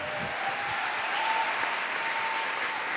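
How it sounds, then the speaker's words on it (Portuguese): Steady applause from a church audience at a religious talk, sustained and fairly loud throughout with no voices over it. "Uma salva de palmas, gente."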